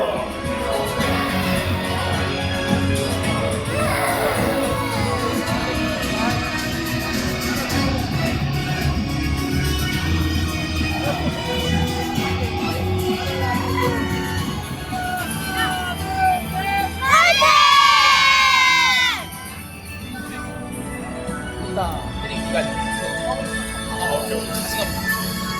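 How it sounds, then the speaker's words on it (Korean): Crowd at an FC Anyang football stadium cheering as the players walk onto the pitch, a dense roar of shouting voices with a louder burst of high yelling partway through. "팬 여러분, 우리 선수들을 뜨거운 박수로 환영해 주십시오."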